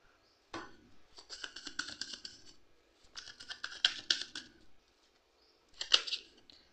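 Tarot cards drawn from a deck and laid down one after another, giving crisp papery snaps and shuffling slides in three short bursts with pauses between, close and fairly quiet.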